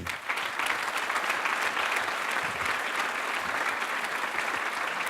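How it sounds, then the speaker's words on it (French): A dinner club audience applauds Stéphane Bern steadily, a dense, sustained wash of clapping hands that carries on throughout without pause. "Stéphane Bern, on l'applaudit."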